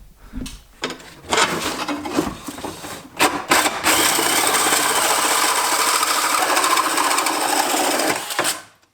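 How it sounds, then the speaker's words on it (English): A hole saw cuts a 4-inch hole in a fabrication shop, a loud, close, whirring and grinding drill sound that starts in bursts, then runs steadily for several seconds before spinning down. "So the problem is it's cutting a 4-inch outside diameter hole"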